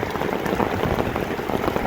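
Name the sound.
rain falling in Vientiane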